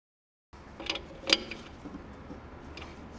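Bolts being snugged down with a ratchet while a Ford 200 inline-six engine is installed in a 1966 Ford Mustang, giving faint mechanical clicks and a few sharper ticks close by after a brief silence; no voices.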